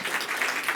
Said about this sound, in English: Big applause also for Tomer this time.